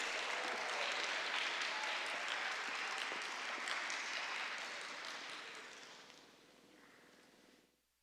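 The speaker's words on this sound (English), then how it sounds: "Please give them a warm round of applause." A warm round of applause at a student election event welcoming two candidates, dense and steady clapping that fades out toward the end.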